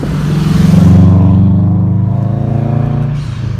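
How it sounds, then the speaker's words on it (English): Subaru car driving past on a dark road, its engine swelling loud and close then easing away over a few seconds, with no voices over it. "Here comes an unreliable car."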